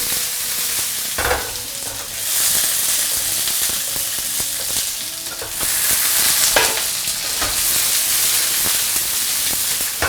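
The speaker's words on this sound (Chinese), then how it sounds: "我用鹌鹑蛋，小火，中小火慢慢去煎它" Boiled quail eggs sizzle and crackle steadily in a hot pan over low-medium heat, with a few brief scraping stirs. No one speaks.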